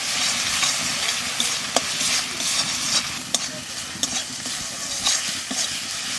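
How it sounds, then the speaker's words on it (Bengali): Spices frying with salt, turmeric and a splash of water for a crab curry, a steady close sizzle with stirring scrapes and small pops, no voices. "মশলা কষাই নিছি"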